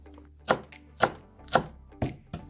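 Knife chopping dill and parsley on a board, five steady chops about half a second apart, close and crisp.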